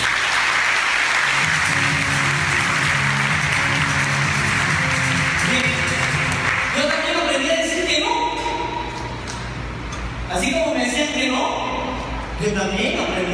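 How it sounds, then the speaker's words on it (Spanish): Audience applause at a business event in Lima, a dense sustained clapping from a crowd that runs throughout, loud and near, with a voice speaking over it and some music-like tones toward the end. "Un aplauso para ti."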